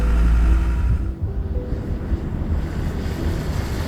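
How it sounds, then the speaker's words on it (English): Strong, steady wind blows across open Moroccan desert land, a loud low rumbling roar buffeting the microphone, heaviest at the start and then continuing evenly. "The wind is the only friend out here. It blows hard, steady"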